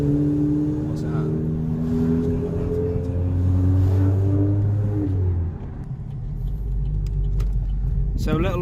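A car with a suspected blown head gasket drives along, its engine and road rumble loud and steady from inside the cabin, with a slight drop and rise in engine tone partway through.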